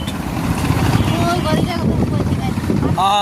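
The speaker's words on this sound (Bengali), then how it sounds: "কি বাতাস!" Strong wind buffets the microphone at the Buriganga river ferry ghat in Dhaka, producing a continuous low roar while people speak nearby.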